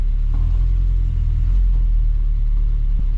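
A 1979 Chevy LUV pickup truck in first gear straining to move, giving a loud, steady low engine rumble close by with no talk over it.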